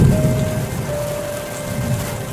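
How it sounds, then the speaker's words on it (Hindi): Dense heavy rain pattering on a surface with strong wind and a low rumbling wash underneath, steady and close, no voices. "बाहर बहुत तेज बारिश के साथ साथ हवा भी चल रही है"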